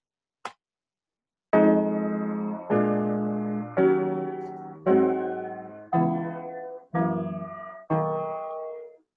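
Jazz piano chords rolling through a minor seventh to dominant seventh progression, seven sustained chords struck in a steady rhythm with full, ringing harmonics, preceded by a brief faint click.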